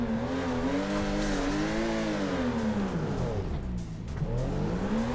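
A car engine in the Torque Drift video game revs after a clutch kick, a loud sustained whine that rises and falls with a dip and recovery near the end, with tire noise beneath.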